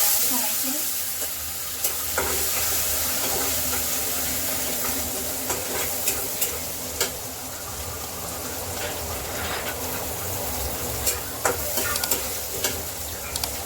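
A tempering of oil with hing, turmeric and soaked chana dal fries in the pan, a constant loud sizzle with sharp clinks and scrapes of stirring scattered across it.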